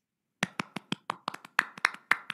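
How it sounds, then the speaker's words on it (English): Sparse hand claps at the close of an online webinar, about a dozen distinct claps in an uneven rhythm, close and fairly quiet, with no other sound around them. "let's give a big round of applause"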